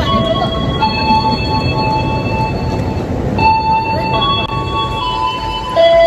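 A panoramic passenger train at an Indonesian station gives off steady loud rumble with high, sustained wheel squeals and tonal whines, while people talk nearby.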